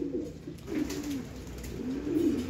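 A racing pigeon coos softly and close by, a few low, throaty warbling calls repeating in a loose rhythm against a quiet background.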